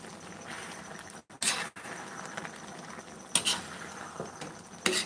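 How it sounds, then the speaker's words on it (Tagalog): Adobong isaw, pork intestine adobo, being stirred in a pan, with a few sharp clinks and scrapes of a utensil against metal over a soft sizzling background. "Para hindi dumikit sa ilalim, halo natin."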